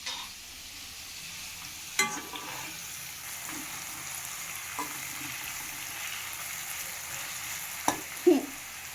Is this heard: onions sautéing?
yes